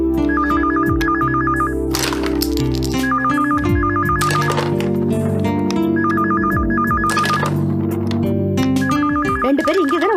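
An old-style telephone bell rings in bursts, repeating about four times over a loud bed of dramatic music and sound effects in a Tamil television fantasy serial.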